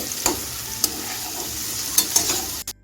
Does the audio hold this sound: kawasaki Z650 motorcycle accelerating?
no